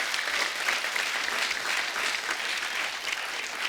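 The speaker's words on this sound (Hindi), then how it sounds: "उस फिल्म के लिए जोरदार तालियां हो जाए" Studio audience applause on a Hindi comedy talk show, a thick, continuous roar of many hands clapping at once, loud and unbroken throughout.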